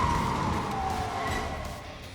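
A police car siren wails in the racing game Dangerous Driving, a steady, loud electronic tone sliding downward in pitch over a constant background roar.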